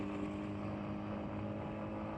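A 1977 Yamaha RD400D motorcycle with a freshly cleaned and rebuilt carbureted engine running on VP 94 fuel, heard while riding as a steady droning engine note mixed with wind rush, continuous and moderately quiet.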